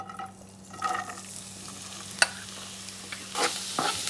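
Onion frying in two spoons of coconut oil, faint sizzling with a few scraping stirs of a spoon, including one sharp clack near the middle and a louder stir toward the end.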